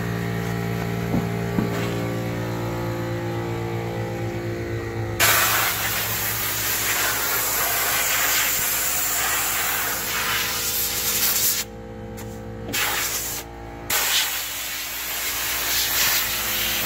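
Sand blasting against a wall during work on a 1987 Fiero GT with a K20 engine swap: a loud, continuous rushing hiss that swells abruptly after a steady hum, then cuts out briefly a few times near the end.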